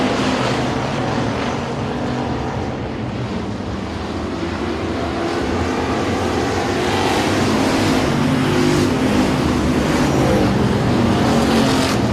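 Race cars at Sabine Speedway in the closing stages of a race, a loud continuous roar of engines that swells and passes, with crowd and track noise filling the background and no clear speech.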